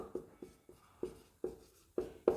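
Handwriting strokes during a maths lesson on trigonometric ratios: about nine short, scratchy, close strokes at an uneven, quick rhythm, quiet and with no talk.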